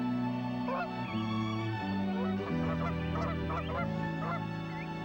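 Geese honk steadily, with several overlapping calls close by forming a continuous, layered chorus with no voices over it.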